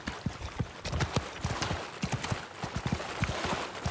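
Galloping horse hooves in the medieval combat game Mount & Blade II: Bannerlord pound in a fast, steady clip-clop rhythm, close and moderately loud, with no talk over them.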